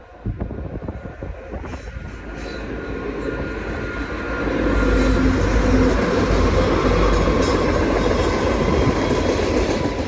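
CP freight train 446 rolling past, with a distant rumble that swells into a loud, steady roar of wheels and cars on the rails as it draws level, mixed with wind.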